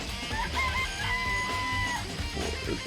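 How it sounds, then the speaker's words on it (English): Chickens in a coop in the video game Danganronpa: Trigger Happy Havoc, with repeated crowing and clucking calls over steady game background music, moderately loud and continuous. "Chicken in the chicken coop."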